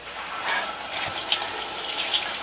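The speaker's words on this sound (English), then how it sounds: "We just rinse some of the dirt and stuff off." Beets rinsed under a running tap to wash off dirt, giving a steady, close splashing rush of water throughout with small bursts and no talking.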